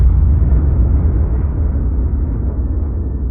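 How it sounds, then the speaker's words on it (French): A sound effect for a supernova star explosion: a deep, loud, sustained rumble that fills the whole stretch and fades only slightly, with no talking. "les étoiles ont explosé en supernova"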